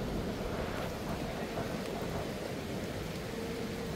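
Rain falls at night in the city of KLCC as a dense, even hiss of steady patter, continuous and fairly faint, with no clear voices over it.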